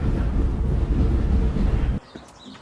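Train at the National Railroad Museum in Green Bay, Wisconsin, a dense rumbling chug heard loud and close before cutting off abruptly to near quiet.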